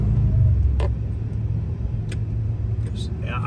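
Golf cart with a fault where it won't hold a charge, its drive hum rising as the gas pedal is pressed, a low steady rumble under a voice with a few faint ticks.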